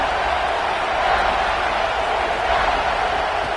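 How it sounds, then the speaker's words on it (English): A football stadium crowd roars in a dense, continuous wall of noise as fans cheer to fire up the defense for a red zone stop, loud and unbroken throughout. "This crowd's trying to inspire this defense to make a big red zone stop."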